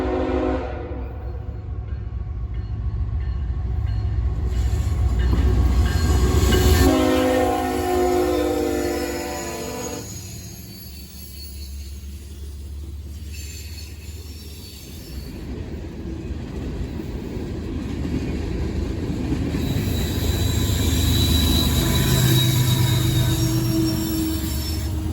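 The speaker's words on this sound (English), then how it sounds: "Eastbound and peeling off the Metro to enter the old main is a CSX manifest." An eastbound CSX manifest freight train rumbles past close by as it diverges onto the old main line, with heavy wheel noise, sharp squealing flanges and shifting metallic screeches across the whole stretch, no voices.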